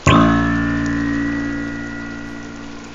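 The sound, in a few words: minke whale "Boeing" sound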